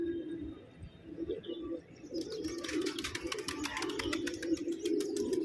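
Pigeons kept in a home loft give low, steady coos, with chirps and wing flutters joining partway through, close and moderately loud against a busy background.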